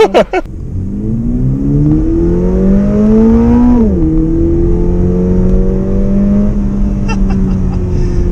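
A 2022 Subaru BRZ with a 2.4-liter four-cylinder engine pulls hard, its loud, near engine note rising steadily through the gears with a brief dip at a shift, then holding a strong drone.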